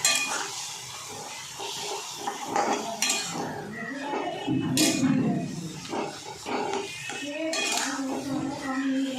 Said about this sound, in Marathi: आता हे सगळं चांगलं मिक्स करून घ्यायचं